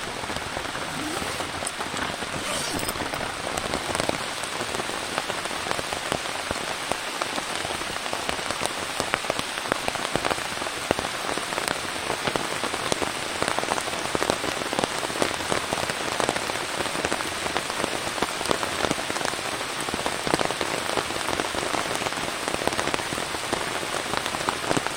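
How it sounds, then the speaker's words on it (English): Heavy rain pours steadily onto a rooftop tent at a waterfront campsite under a flash flood warning, a dense, continuous close-up patter and hiss with no break for the whole stretch. "The rain just started picking up."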